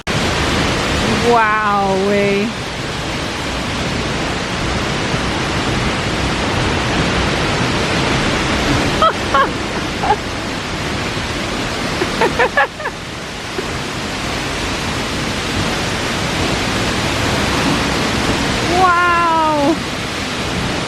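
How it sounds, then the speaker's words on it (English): A roaring waterfall in South Iceland, heard close up from the path behind the falling water, a dense steady wash of rushing noise filling the whole clip, with excited exclamations from a voice cutting through it a few times. "We're walking behind the waterfall"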